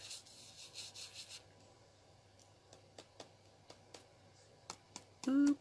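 Ultra fine glitter being burnished by hand onto a paper bauble, a soft rubbing scrape at the start followed by scattered quiet clicks and taps, close and faint.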